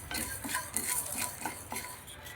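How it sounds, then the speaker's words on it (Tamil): Turmeric, sweet flag and galangal dry-roasted in an empty pan, with soft scraping and rattling of the hard roots against metal under a faint background hiss, quiet and close. "இதெல்லாம் போட்டு வெறும் வானலில் நல்லா வறுத்து எடுத்துக்கலாம்"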